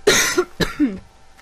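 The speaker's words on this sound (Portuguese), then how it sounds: "Tosse do capeta." Two harsh coughs from a person, close and loud, each a sharp burst trailing into a rougher tail, followed by quiet.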